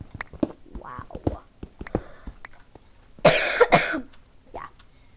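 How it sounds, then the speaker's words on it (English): A few short coughs and throat clearing close to the microphone, followed by one harsher, louder burst of coughing. "Sorry, I'm coughing."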